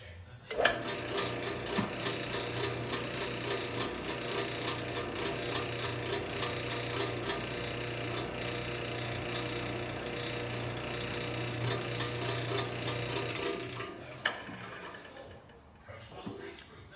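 Steady high-pitched whirring of a drill boring by hand into rubber for a generator exhaust, running for about fourteen seconds, then stopping, with faint rattles afterward.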